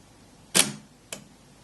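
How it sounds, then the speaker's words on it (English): A Russian rangefinder camera shutter fires with a sharp mechanical click, followed about half a second later by a softer second click, close and otherwise quiet. "Let's listen to the shutter sound."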